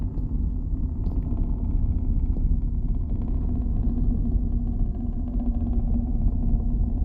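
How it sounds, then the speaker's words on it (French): Steady low rumble of a car engine hanging from a beam in the video game Exanimum, a continuous droning hum that stays even and fairly loud throughout with no voices. "Moteur de voiture accroché à une poutre"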